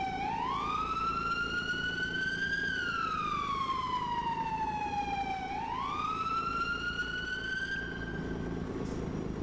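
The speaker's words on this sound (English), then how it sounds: "Can you turn your damn siren off by any chance?" An emergency vehicle siren from the video game EmergeNYC wails loudly and steadily, its pitch gliding up, down and back up in long sweeps over a low rumbling engine bed, with no speech.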